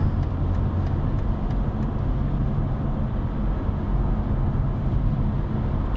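A 2022 BMW M440i xDrive Gran Coupé, a petrol car, accelerates on the motorway toward 120 km/h, heard from inside as a steady, dense low engine and road drone with no voices.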